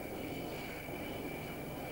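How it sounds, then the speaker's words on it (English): Military jet aircraft such as an F-4J Phantom or A-4 Skyhawk catapult-launched off an aircraft carrier deck in Vietnam-era operations, a steady loud roar of engine and deck noise filling the clip without pause. "Different types of aircraft leave the carrier."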